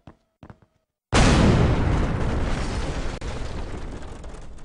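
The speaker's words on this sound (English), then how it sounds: "Bomb!" A bomb explodes in The World is Not Enough video game, a sudden loud, close blast after a few faint clicks, followed by a long rumbling roar that slowly fades.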